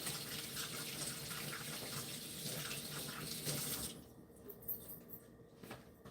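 Water from a kitchen tap runs steadily while a small mortar is rinsed, a continuous splashing stream that cuts off partway through, leaving quieter handling noises and faint clinks.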